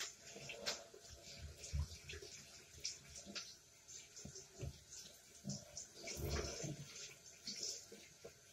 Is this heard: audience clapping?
no